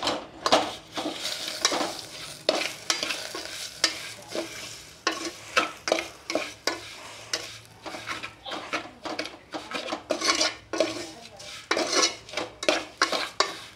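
Vermicelli payasam being stirred in a pot, with repeated scraping and clinking strokes of a spoon against the pan in an uneven rhythm over a soft sizzle, close and moderately loud, with no talking.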